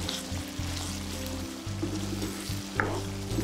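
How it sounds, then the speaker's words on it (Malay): Onions and kaffir lime leaves sauté in hot oil for a Melaka asam pedas with red fish, giving a steady, close sizzle with brief stirring scrapes and a louder crackle near the end, with no voices. "Dan sambung tumis lagi."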